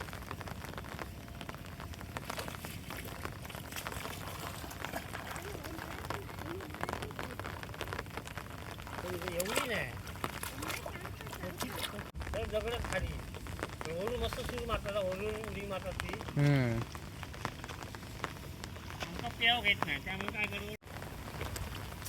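Heavy rain falls steadily on paddy fields on a Konkan morning, a dense continuous hiss with a few brief knocks and a voice faintly mixed in.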